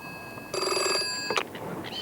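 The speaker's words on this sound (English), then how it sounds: "when the phone rang" Telephone bell rings in a 1980s animated cartoon, set in a village shop, in one steady burst of about a second that ends abruptly, with faint background noise around it.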